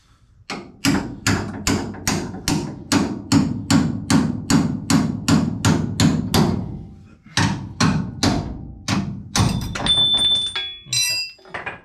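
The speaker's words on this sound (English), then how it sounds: "Hit the wrench with the hammer." A metal hammer strikes a wrench on a leaf spring bolt over and over in a fast, steady rhythm, sharp clanks close by, then a few scattered hits with a ringing tone.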